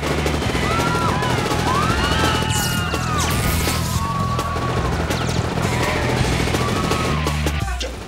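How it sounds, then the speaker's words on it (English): Rapid bursts of gunfire crackle over a loud, dense background of music and commotion, continuous for several seconds. "Chuck, it's gunfire!"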